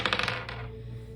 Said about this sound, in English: I want to at least roll the dice